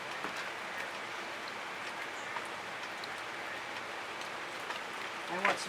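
Rain falls steadily outdoors in sunshine, a soft continuous patter with occasional faint drops, while a voice speaks briefly near the end.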